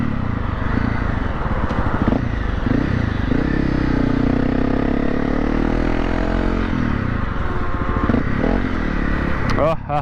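A Honda CRF dirt bike is ridden through city streets in Adelaide. Its engine drones steadily and close throughout, with a voice talking over it.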